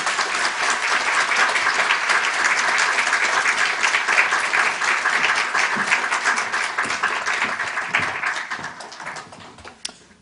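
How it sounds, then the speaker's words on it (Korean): A church congregation gives a warm round of applause during a Sunday service as a missionary comes forward, steady massed clapping from a large room that swells and then fades out over the last couple of seconds. "우리 샘물 박수, 아주 뜨거운 샘물 박수를 한번 보내드리도록 하겠습니다."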